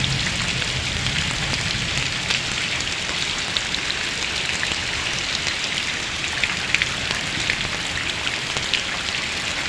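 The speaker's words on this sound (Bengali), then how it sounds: "দারুণ দারুণ অনেকটা বৃষ্টি হচ্ছে" Heavy rain pours steadily, a dense, even wash of drops striking surfaces close by, with scattered sharper splats over the roar and no voices.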